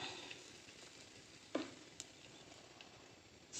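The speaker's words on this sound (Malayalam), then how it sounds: "ഇതാ ചട്ടിയെല്ലാം കാഞ്ഞിട്ടുണ്ട്. നമുക്കതിലേക്ക് കുറച്ച് വെളിച്ചെണ്ണ ഒഴിച്ച് കൊടുക്കാം." Coconut oil hits a hot pan, giving a steady, close hiss and sizzle throughout with a couple of small pops and clicks, heard alone without voices.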